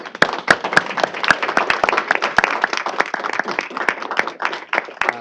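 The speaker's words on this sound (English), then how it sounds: "Let's give you a big round of applause" Audience applause at a Michigan State Board of Education meeting honoring Holland Public Schools: a steady spread of many hands clapping for several seconds, with individual sharp claps standing out near the front and faint voices mixed in.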